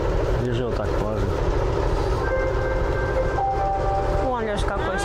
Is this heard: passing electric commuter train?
yes